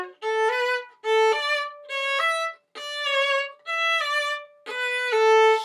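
Six bowed violin phrases from line 21 of the Suzuki Humoresque ring out clearly and close, each a separate stroke with short gaps between them. The tone is bright and the playing stands alone.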